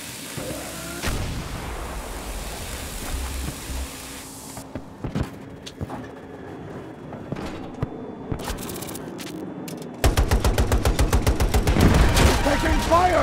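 Battlefield 2042 Conquest battle on Xbox Series X, with scattered gunshots and distant artillery thuds building into a loud, rapid burst of automatic fire near the end, and voices calling out between the shots.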